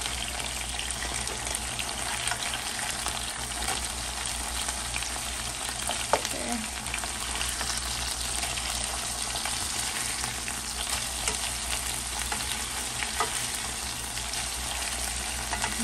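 Rockfish searing in a hot pan gives a loud, dense, unbroken sizzle held steady from start to finish, close up, with one faint clink partway through.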